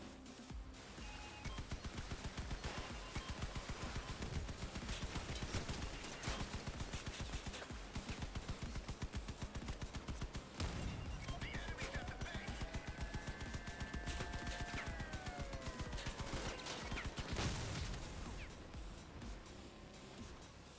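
Vehicle-mounted guns in the combat game Crossout fire in long, dense rapid bursts almost without pause, loud and close, with engine rumble and whining mechanical tones beneath.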